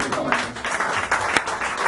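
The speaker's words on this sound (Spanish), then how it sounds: "Si tú crees esa palabra, hermano, dale al Señor un aplauso." A congregation claps briefly during a church sermon, a short burst of dense clapping with a sharp peak near the end, moderately loud.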